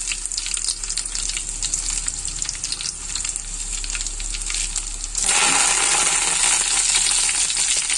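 Garlic and dried red chillies fry in oil with a close, continuous crackling sizzle that grows louder and denser partway through, with light stirring and no talk.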